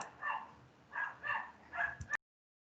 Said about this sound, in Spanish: se escucha una pelea de perro ahí